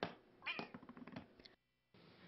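A cat gives a brief, fairly close meow with a few chirpy vocal sounds before a short silence, heard quietly without speech.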